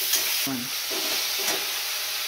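Vegetables cooking in a pan for a mixed five-vegetable curry, with a continuous close sizzle and a few distinct scraping stirs of a spatula across it.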